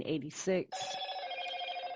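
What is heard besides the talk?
phone ringing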